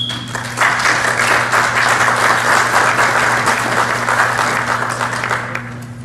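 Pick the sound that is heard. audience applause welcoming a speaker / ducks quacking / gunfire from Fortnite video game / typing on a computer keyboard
audience applause welcoming a speaker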